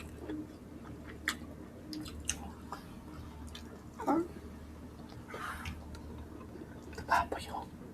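Mukbang eating of ginataang tulingan, tuna and pork belly simmered in coconut milk: close, wet chewing and squishy bites with soft smacks, under low whispery talk and room hum.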